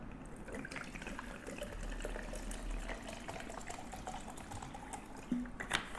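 Water poured steadily into a protein shaker to about 300 ml, a continuous faint splashing trickle with a slight burble near the end.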